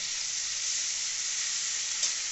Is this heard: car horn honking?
no